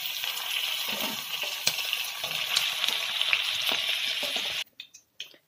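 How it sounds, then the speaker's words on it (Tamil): Okra sautés in hot oil with a dense, steady sizzle and light stirring clinks, close and continuous for several seconds before it cuts off into near silence with a few faint knocks. "இந்த எண்ணெயிலே நல்லா வதங்கிடுச்சு, 1/2 குக் ஆயிடுச்சு."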